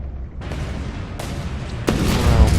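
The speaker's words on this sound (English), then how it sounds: "at least those missiles like sniped" Missile strikes in an Endless Space 2 space battle land as a series of booming explosive bursts, each a broad rumbling hit, the last one louder and closer.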